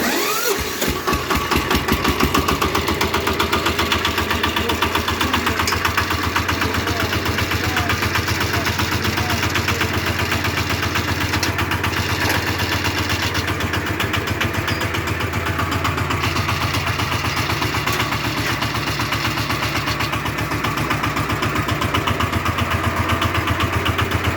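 The engine of a homemade motor tractor runs steadily and loudly throughout, close to the microphone, with a fast, even chugging idle rhythm and no break.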